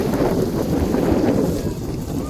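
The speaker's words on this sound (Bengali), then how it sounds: "এত হাওয়া, এটা একবারে চলে গেছে ঝোড়ো হাওয়া" Strong gusty wind blasts a microphone outdoors, a loud continuous low roar and rumble that swells and eases without a break, with no voices over it.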